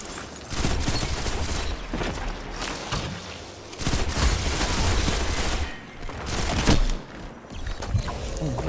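Video game gunfire, heard as dense, loud bursts of shots and fusillades that come in waves with short quieter gaps, mixed with game noise.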